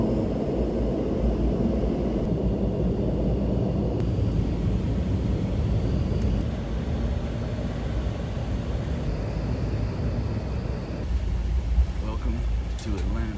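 Steady, loud airplane cabin roar during the descent into Atlanta, a dense low rumble that holds throughout with a voice talking over it.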